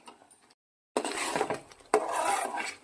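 A spoon scrapes and stirs thick carrot halwa with ghee in a pan, two bursts of rasping, rubbing strokes after a short silence, close and moderately loud.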